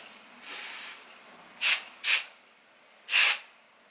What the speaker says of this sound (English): trying this little powder spray